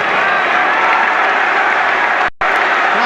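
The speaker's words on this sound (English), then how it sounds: "Crowd encouraged though by that little flurry from Chelsea" Football crowd at a Chelsea versus QPR match applauding an attack, a dense wash of clapping and cheering that cuts out abruptly for a moment before resuming.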